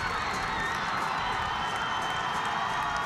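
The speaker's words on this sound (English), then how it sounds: "And you can hear the Oil City crowd." Oil City football crowd at a district championship game, spectators up on their feet, producing a steady, dense roar of cheering and shouting that holds continuously without letup.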